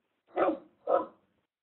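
A pet dog barks twice nearby, two short, full woofs about half a second apart, clear against a quiet room.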